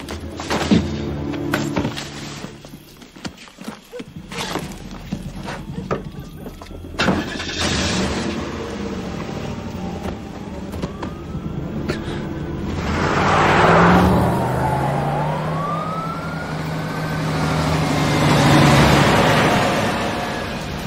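A car engine turns over and the vehicle pulls away in a French police action film, starting with clunks and rough rumbling, then a steady engine drone that swells and rises as it drives off, with no talk.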